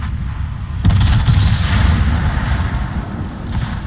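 A Des Moines cruiser's guns fire on a destroyer in a naval battle game, with a sharp loud salvo followed by rolling rumbling booms and further shots fading out.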